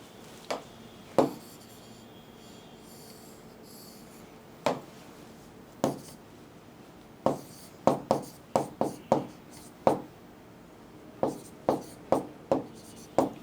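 Chalk or marker tapping and scratching on a board as words are written in a chemistry lesson, a series of sharp irregular strokes, close, with no speech.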